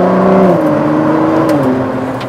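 A Ford GT sports car engine accelerating hard, loud close-up revving with harmonic tones climbing and shifting, then easing slightly toward the end, with no talk over it.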